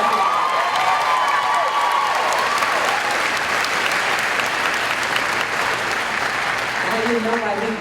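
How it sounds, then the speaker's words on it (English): Loud, sustained applause from a large crowd at a 2016 Columbia College commencement ceremony, steady throughout with faint cheers, fading slightly near the end. "Let's give her another round of applause."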